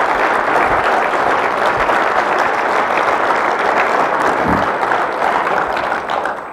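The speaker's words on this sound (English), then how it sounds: "I think everybody needs to give Barth Crouch, Carol Blocksome a round of applause." Audience at a fire summit gives sustained applause, a dense, loud, even roar of clapping from a sizable indoor crowd that eases off in the final moment.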